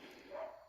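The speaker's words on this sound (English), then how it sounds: "sorry about that dog barking" A single short bark from a dog somewhere nearby, faint and muffled in the background of a quiet room.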